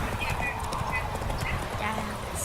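Geralt's horse Roach in The Witcher 3, trotting with a steady rapid clip-clop of hooves close by, an occasional snort or whinny, and someone speaking over it.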